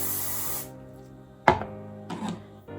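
Hairspray from an aerosol can gives one brief hiss onto a ponytail and then cuts off, followed by a sharp click and a softer rustle in a quiet room.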